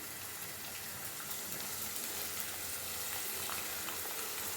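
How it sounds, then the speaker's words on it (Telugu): Onions frying in a pan for a prawn and raw mango curry, a steady, dense sizzle that holds evenly throughout with no talking. "మనకి జీడిపప్పు ఎలా వేగింది అలా ఇవి కూడా ఉల్లిపాయలు బాగా వేయించుకోవాలన్నమాట."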